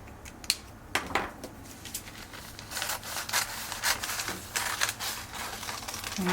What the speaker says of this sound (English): And I'm actually cutting through 2 pieces of paper.